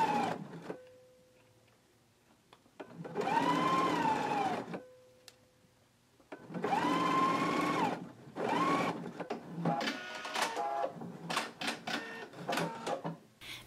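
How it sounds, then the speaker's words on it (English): A sewing machine stitches a 3/8 inch seam on a dressmaking pattern project in two steady whirring bursts, separated by pauses and quiet handling, then ends in shorter stop-start runs. "we can go ahead and stitch this in a 3/8 of an inch seam allowance"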